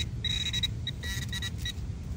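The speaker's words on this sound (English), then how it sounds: "Whatever else is beeping on over here." Several short, high electronic beeps from a metal detector sound outdoors at a river, coming in brief clusters over a steady low rumble of background noise.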